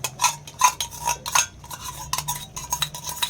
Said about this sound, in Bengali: এই যে দইটা দিয়ে ভালো করে নাড়া হলো